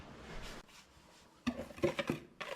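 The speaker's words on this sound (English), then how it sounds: "And then we are going to whisk this together" Gluten-free ginger snap cookie dry ingredients, including cinnamon, are whisked together in a bowl, with soft scraping followed by a series of close, light clinks and taps against the bowl.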